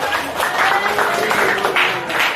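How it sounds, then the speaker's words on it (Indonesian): A classroom of students applauds together after a teacher's prompt, a dense, steady patter of hand claps that continues throughout the short stretch at an even loudness. "Tepuk tangan sekali lagi."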